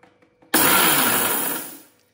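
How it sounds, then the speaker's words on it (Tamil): A mixer grinder bursts into a single loud, roaring pulse as it grinds dried chillies into flakes, sustained for over a second and then spinning down, after a few quiet clicks and no speech. "இதை வந்து மிக்சியில் அரைச்சிக்கலாம்"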